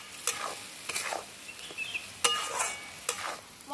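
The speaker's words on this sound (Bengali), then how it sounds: "এটাকে এবার ভালো করে এই মশলাটাকে কষে নেব।" Spice paste for a soybean rezala frying in oil in a pan, with repeated spatula strokes scraping through it over a soft sizzle, close and fairly quiet.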